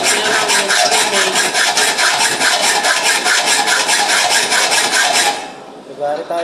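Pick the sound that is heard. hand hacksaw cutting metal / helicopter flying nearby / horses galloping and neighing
hand hacksaw cutting metal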